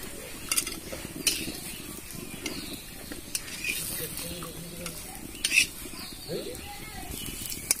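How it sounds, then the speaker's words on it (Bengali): Pumpkin flower fritters (kumro fuler bora) fry in a pan with a constant soft sizzle, broken by clinks of utensils against the pan and scraping stirs at irregular moments. "দেখুন আমি সব বড়াগুলো এইভাবে ভেজে নিচ্ছি"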